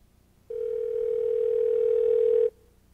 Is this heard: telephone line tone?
yes